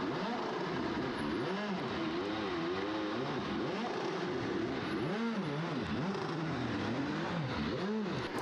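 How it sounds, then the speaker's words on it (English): A DJ Firestorm 2650 race car climbs the Craigantlet hillclimb course, its engine revving up and down in repeated rising and falling sweeps as it shifts through gears, loud and alone. "Fifth arriving here is former champion Alex Summers in a DJ Firestorm 2650"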